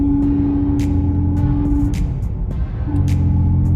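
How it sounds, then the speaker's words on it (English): Gear noise from the limited slip differential of a 2016 Dodge Challenger with 3.90 gears. A loud, steady drive drone carries a tonal whine that drops out midway and returns, with brief rattling bursts and no talk. "I can hear a lot of noise, a lot of gear noise right now"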